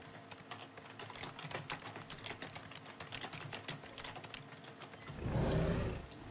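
Rapid, uneven keystrokes on a computer keyboard clatter close by for several seconds, ending in a brief low rumble of handling noise, with no voices.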